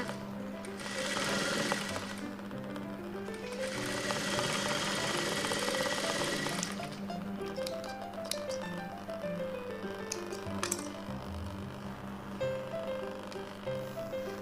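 A sewing machine stitches a blouse, running in a steady loud mechanical whir with short pauses and changes in speed, heard alone without talk.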